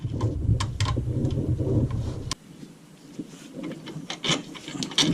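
Wrench work on a bottom bolt beside the alternator of a 2013 Dodge Durango with a 5.7 Hemi comes through as close metallic rubbing and rasping, busy at first and then going briefly quieter before resuming.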